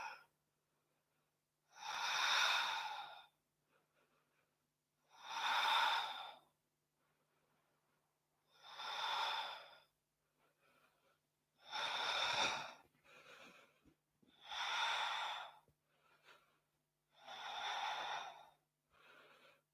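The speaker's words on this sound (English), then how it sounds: "Keeping your breath smooth and steady." Slow, steady breaths during a Forrest Yoga class, seven long airy inhale-exhale swells spaced evenly about every two and a half seconds, close and alone with quiet gaps between.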